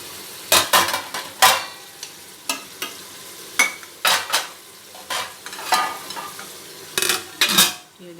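Bottle gourd is tipped into softened tomatoes and stirred in a pot, with loud, close, irregular metallic scrapes and clanks of a spoon against the vessel over a low sizzle.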